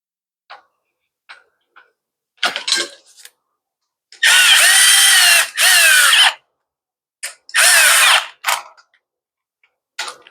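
Short bursts of a ratcheting power tool tighten bolts on a pressure washer, close and loud, with a couple of longer runs between quiet pauses and faint clicks.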